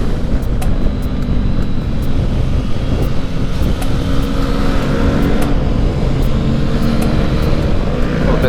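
A 2019 Honda CB500X motorcycle cruising in third gear on a road in Oregon, its engine droning steadily and loudly beneath heavy wind roar, close to the rider with no pauses.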